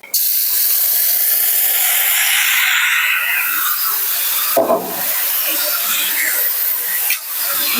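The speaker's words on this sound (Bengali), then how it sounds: "ম্যারিনেট করা মাংসগুলো কড়াইয়ের মধ্যে দিয়ে দেবো" Marinated mutton hits hot oil in a wok (kadai) for mutton kasa, setting off a loud, close, bright sizzling hiss that slowly settles, broken by a brief clatter of stirring partway through.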